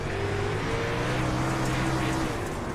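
A race car engine drones steadily on a racetrack, close and loud, its pitch wavering slightly as the driver works to straighten the car out of a corner.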